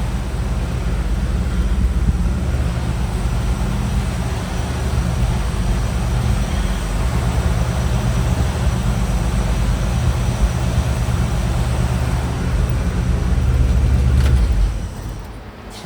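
A 1970 GMC C2500 pickup truck runs and drives along, its engine giving a steady, heavy low rumble for about fifteen seconds before the sound drops away abruptly near the end.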